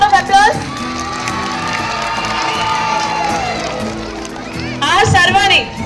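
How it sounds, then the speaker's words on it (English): A crowd of schoolchildren cheers, shouts and whoops loudly during a school council oath ceremony, with an announcer's voice mixed into the noise. "Give them a big round of applause."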